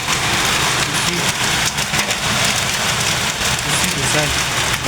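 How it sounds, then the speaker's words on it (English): Hail and heavy rain pound down steadily during a hailstorm in Maseru, Lesotho, a loud, dense clatter that holds for the whole span, with a faint low rumble beneath. "Look at the hailstorm."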